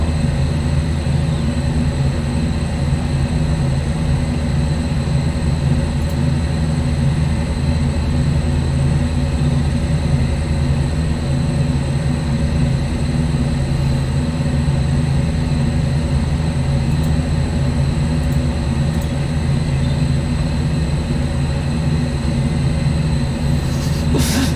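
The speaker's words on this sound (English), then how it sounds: "I hope you like the Lenta turbos, because you're going to hear that until this loads." A train engine in a train simulator game, with Lenta turbos, holds a continuous heavy idling drone and a steady turbo whine, unchanging and loud for the whole stretch with no talk.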